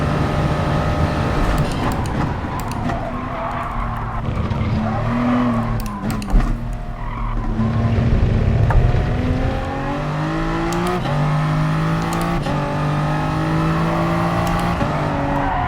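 A Gr.3 race car in Gran Turismo Sport laps Autodrome Lago Maggiore GP, its engine loud and steady with rising and falling revs through gear changes and corners, with occasional tire noise and no talking.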